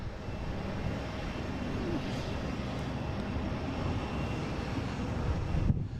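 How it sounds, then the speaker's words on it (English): A JetBlue Airbus A321 takes off from Boston Logan bound for Orlando, its engine roar a steady, moderately loud rumble that builds slightly toward the end, heard on its own with some wind buffeting. "we have a JetBlue taking off"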